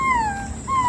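A dog lets out a high, thin whimper, two drawn-out descending whines with a brief break between them, close and fairly clear over a low background hum.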